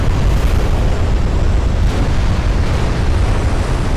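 A ship's ammunition cooks off in a naval battle video game, a loud, continuous rumbling roar of explosions with dense low booms throughout and no talk.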